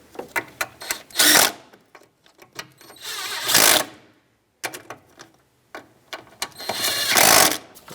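A hand ratchet tightens the cruise control module bolts on a 1997-2001 Lexus ES300, heard as several bursts of rapid clicking separated by short pauses, close to the microphone, with no voices.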